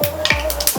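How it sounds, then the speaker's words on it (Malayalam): Mustard seeds spit in hot oil while beef samosa filling is cooked, giving a few sharp, close crackling pops in less than a second, with no talk. "കടുക് പൊട്ടി"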